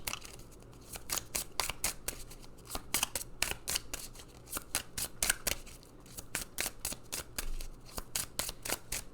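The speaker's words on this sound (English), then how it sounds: "Are we just gonna cut the deck and pick one?" A deck of oracle cards is shuffled and cut, giving a long run of crisp, rapid card riffles and slaps close to the mic, in uneven bursts with no talking.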